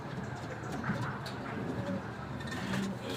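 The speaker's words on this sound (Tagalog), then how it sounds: "ito yung mga ibon natin na nakauwi sa Rosario, La Union." Racing pigeons back home in their loft after a race to Rosario, La Union, giving soft low coos now and then over a quiet outdoor background with faint distant traffic.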